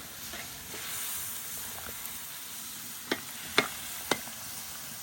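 A soft, steady sizzle and bubbling from a pot of Ukrainian bograch stew simmering in broth, quiet and continuous, with a few sharp clinks near the end.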